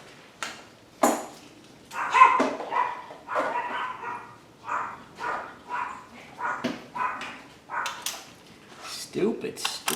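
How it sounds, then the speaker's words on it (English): Several dogs bark and yip excitedly in short irregular bursts nearby during BMW fuel injector work, the barks coming in clustered outbursts with small whimpers between. "Look at my dogs going nuts."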